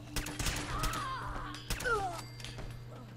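Rapid gunfire bursts in the video game Fallout 4 rattle against a steady background hum, with whooshing tones and a brief pause between volleys.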